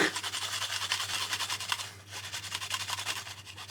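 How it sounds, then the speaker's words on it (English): A clove of garlic being rubbed on a grater for Japanese curry, a quiet rapid rhythmic scraping repeated in short strokes close by. "grind 1 clove of garlic"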